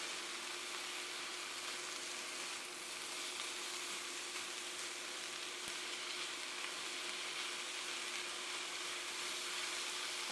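Cabbage and carrot fry steadily in a pan, giving a continuous, even hiss of sizzling heard alone throughout at a moderate level.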